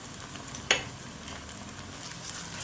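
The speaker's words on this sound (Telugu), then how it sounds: "కొబ్బరి కూడా ఒకసారి ఇలా వేయించుకుని" Coconut fries in a pan with a soft, steady sizzling hiss, broken once by a sharp clink of a stirring utensil, close and low in level.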